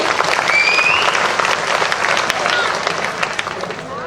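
A crowd at a birthday celebration event applauding loudly, dense sustained clapping up close that gradually thins toward the end.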